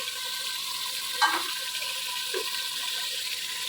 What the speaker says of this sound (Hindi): इसके अंदर थोड़ा सा पानी डालेंगे, इसको 1 मिनट के लिए और भूनेंगे